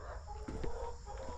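Chickens on a farm clucking softly and steadily through a low background hum, with a few brief louder bursts near the end and no talk over them.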